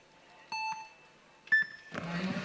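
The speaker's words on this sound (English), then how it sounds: "Here we go, we wait for the buzzers." Two electronic start beeps for a speed climbing final at Chamonix 2022 sound, spaced about a second apart, the second higher pitched, followed by a rush of crowd and arena noise.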